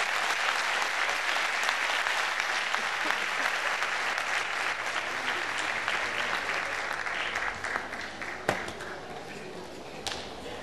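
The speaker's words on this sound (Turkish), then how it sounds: "Kuvvetli bir alkış" Concert audience gives a choir a strong round of applause, dense sustained clapping from a large crowd that gradually thins toward the end, with a few sharp individual claps standing out.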